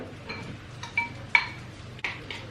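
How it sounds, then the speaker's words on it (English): A spoon stirs a cream cheese spread seasoned with everything spice in a bowl, giving a few light clinks and scrapes against the dish in a short, close, quiet sequence. "Now I'm just gonna stir."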